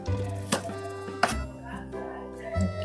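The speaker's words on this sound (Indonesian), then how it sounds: "Ini daun bawangnya dulu kita iris-iris dulu ya." A knife slicing spring onions on a cutting board, a few sharp cuts at irregular intervals, close by, with a voice talking over it.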